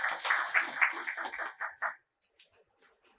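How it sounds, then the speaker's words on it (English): Audience applause at a business conference on project cargo trends, a burst of clapping that fades out after about two seconds, followed by near silence with a few faint sounds. "And that, I would say, deserves a big round of applause for Nikhil Bhai as an organizer."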